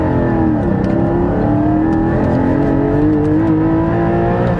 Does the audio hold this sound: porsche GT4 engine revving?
yes